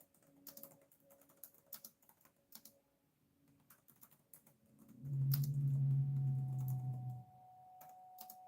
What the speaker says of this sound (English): let me type into the chat real quick